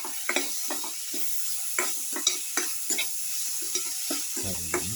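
Salted tomato pieces being stirred and crushed in a pan for a garlic cumin tomato rice casserole, a series of short scraping strokes over a faint, steady sizzle, ending in a brief clunk.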